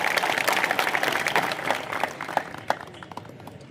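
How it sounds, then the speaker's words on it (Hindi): Crowd applause at an outdoor rally against land jihad in Satana, a dense wash of clapping that thins and fades over a few seconds, with a couple of sharper claps near the end. "इसके लिए एक बार अपने लिए जोरदार तालियां बजाइए।"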